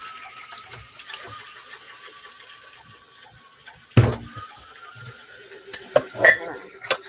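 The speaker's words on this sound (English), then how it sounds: "I'll just keep washing the dishes" Dishes being washed in a kitchen sink, with a steady background of running water, soft clatter and a sharp knock of crockery midway, followed by a few brief clinks near the end.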